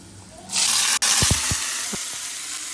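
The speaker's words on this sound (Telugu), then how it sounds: "కలుపుకోవాలి ఆనియన్స్ కాసేపు వేగనివ్వాలి" Sliced onions hit hot tempering oil with a sudden loud sizzle that keeps hissing steadily, while a few spoon knocks against the pan sound during stirring.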